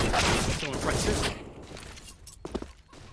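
Rapid gunfire bursts in a Counter-Strike: Global Offensive match, dense at first and then thinning to a few scattered shots, with a voice talking underneath.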